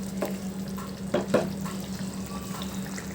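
Vermicelli for semiya upma frying in a pan, a steady close sizzle with a few spoon scrapes and stirring knocks, no talking.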